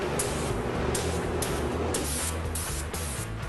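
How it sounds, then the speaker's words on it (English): An airbrush sprays paint for fine flame detail on a chopper, a steady close hiss of air running throughout with a low mechanical hum underneath. "an airbrush is used for the fine detail work on the tips of the flames"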